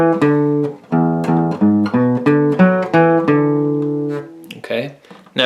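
An electric or acoustic guitar plays the full riff from a song, a string of clear, plucked single notes in a steady rhythm with a few held tones, ending in a short, scrappier flourish.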